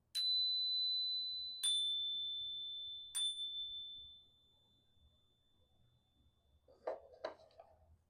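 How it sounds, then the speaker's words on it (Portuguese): A Tibetan bell struck three times, each a clear, sustained metallic ring that slowly decays, followed by two brighter, quicker strikes near the end in a quiet room. "eu trouxe aqui, por exemplo, um sino tibetano"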